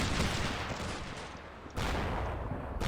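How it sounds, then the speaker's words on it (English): Automatic 25mm cannon fire in the Combat Mission Shock Force 2 war game, a dense, loud roll of rapid shots that pauses briefly and then resumes, with no talk. "you see the slightly more accurate 25mm cannon fire"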